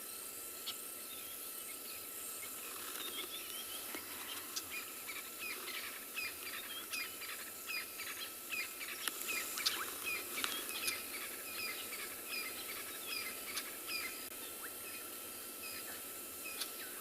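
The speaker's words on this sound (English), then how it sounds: "listening to the bird sounds" Birds call during an afternoon safari in the South African bush: scattered faint chirps and tweets against a soft insect and cricket hum, distant and quiet.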